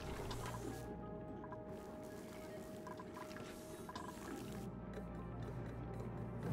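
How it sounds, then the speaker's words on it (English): Water dumps down in the video game Oxygen Not Included, faint bubbling and dripping liquid sounds layered over a soft ambient game music drone. "That's going to dump some water down"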